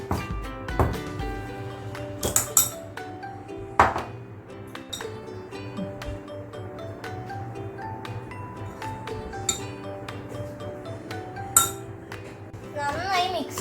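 Garlic butter is stirred in a bowl, producing light, irregular clinks and taps of a utensil against the dish, close by, while voices, including a child's, talk in the background.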